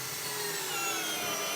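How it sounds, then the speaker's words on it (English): A power drill with a countersink bit bores holes into wooden cabinets during installation, giving a steady, close whirring grind with no pauses or talking. "drill ourselves a couple holes."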